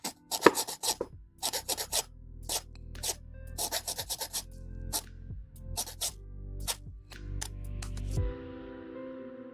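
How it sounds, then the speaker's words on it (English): Gate nubs sanded off a 1/144 Real Grade Bandai Wing Gundam Zero EW plastic model kit, heard as close, repeated short rasping strokes in uneven bursts, with a quieter stretch near the end. "Very gently rub those nubs."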